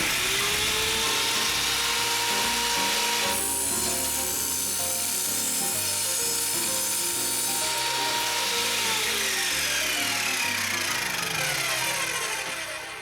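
A power saw blade that cuts metal, wood and plastic grinds through metal trim for a campervan, a loud continuous mechanical whine and rattle that holds steady for several seconds.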